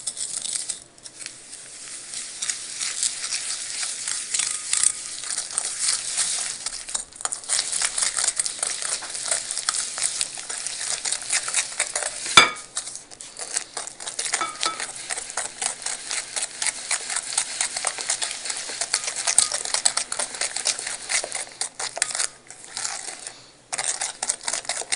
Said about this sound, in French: on prend nos jaunes, on rajoute nos 150 g de sucre et on va fouetter